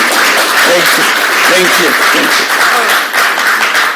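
Audience applause for guests at an Asia Society dialogue, loud sustained clapping filling the room while someone speaks over it.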